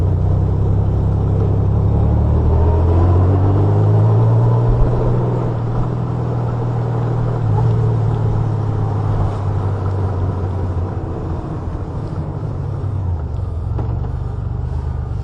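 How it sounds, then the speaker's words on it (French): A motorcycle rides along a road toward Dampierre, its engine droning steadily with low rumble and wind noise throughout, no one speaking. "C'est quand même chouette de se rebalader en moto là."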